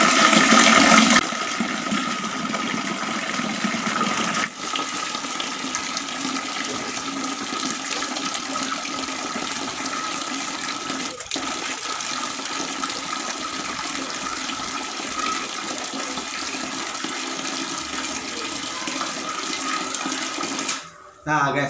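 Water runs steadily from a float-controlled automatic tap made from salvaged parts, a continuous close splashing flow that holds for about twenty seconds before cutting off near the end.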